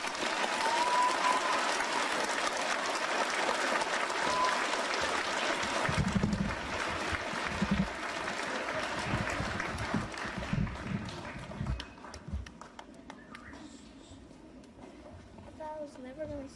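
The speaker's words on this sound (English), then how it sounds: "Give him another round of applause." Crowd at a soldier's family reunion claps warmly, dense applause that swells and then thins out, with voices and emotional exclamations mixed in toward the end.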